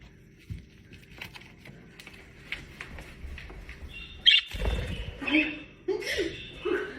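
A pet bird squawks in short, sharp bursts near the end, mixed with laughter and chatter from people close by in a lively indoor scene.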